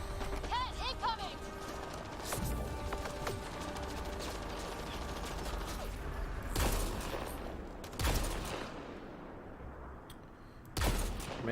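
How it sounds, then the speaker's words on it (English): Sniper rifle fire in the video game Mass Effect Andromeda: sharp, loud shots at spaced intervals over game sounds and mechanical clicks, with a person talking at times. "the big guys take a lot of headshots, even with the sniper rifle"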